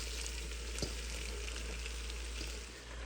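Beef frying in a pot with melted butter and garlic for beef bourguignon, a quiet, even sizzle held steady under a low hum, with a single faint clink.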